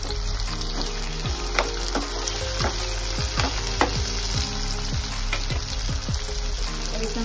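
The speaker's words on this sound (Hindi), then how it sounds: "मैं 2 टमाटो डाल दूँ जिसको मैंने रफली चॉप कर लिया है। थोड़ा सा हम सॉल्ट डालेंगे ताकि ये अच्छे से गल जाए टमाटर।" Roughly chopped tomatoes with salt fry in a pan for Punjabi-style rajma masala. A continuous close sizzle runs throughout, broken by repeated spatula taps and clinks against the pan, and no one speaks.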